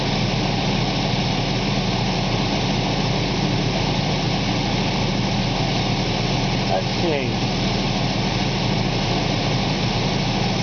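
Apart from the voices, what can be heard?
car engine idling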